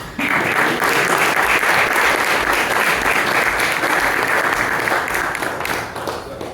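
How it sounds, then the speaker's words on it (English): A large audience at a men's gathering gives a big, sustained round of applause, with thick, continuous clapping throughout, faint voices mixed in, and a slight fade at the end. "Nice big round of applause."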